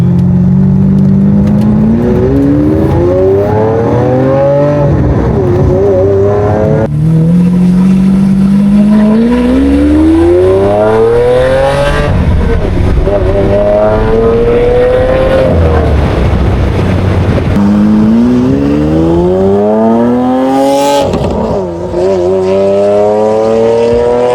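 A Lamborghini Aventador LP700 engine revs up repeatedly at half throttle, pitch climbing in long sweeps, loud and close throughout.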